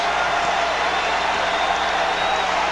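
A college basketball crowd cheering at a Xavier vs Dayton men's game, a continuous dense roar of many voices, steady and loud throughout.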